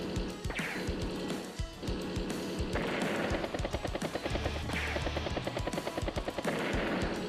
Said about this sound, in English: Tank battlecopter fight.